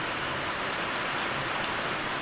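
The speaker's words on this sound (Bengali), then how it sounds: "পুরা বৃষ্টি হচ্ছে" Heavy rain falls steadily in a foggy hill town in North Bengal, a dense, loud, unbroken hiss of drops on surfaces close by.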